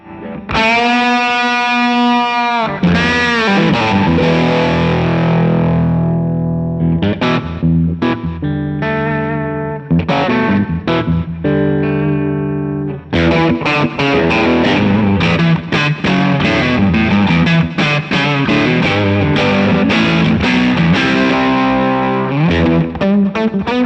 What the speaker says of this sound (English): No, it's a distortion pedal.